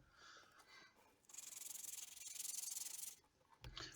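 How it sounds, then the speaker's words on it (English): Burrs being filed or sanded off a mock-up part for a phone stand mechanism: a soft rubbing rasp swells into a steady scraping stroke lasting about two seconds, close and quiet, with faint handling sounds before and after. "I'm taking away all the burrs now and making it as nice and smooth as possible"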